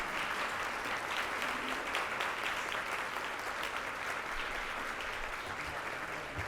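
An audience applauds panelists at a Columbus Metropolitan Club discussion on public art, sustained crowd clapping filling the room at an even level from start to finish, slightly distant and without talk.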